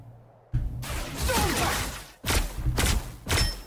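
Thor's explosion blast effect in Marvel Rivals: after silence, a sudden thud and whooshing burst, followed by two more sharp blasts with swishing tails, loud and close.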